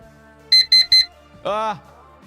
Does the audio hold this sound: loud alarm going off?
yes